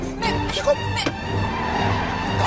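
A car moving along a road gives a steady engine and road rumble from inside the cabin, with muffled voices talking over it.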